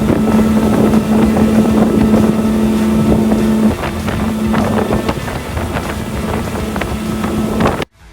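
Mercury Racing supercharged V8 engines power a 2026 Costa 32TE boat at speed, giving a loud continuous roar with a steady droning hum and wind buffeting the microphone, ending abruptly.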